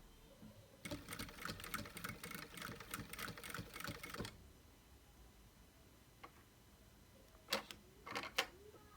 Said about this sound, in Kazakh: На ширине лапки, яғни мінекей мына ширинада тігіс жүргіземіз.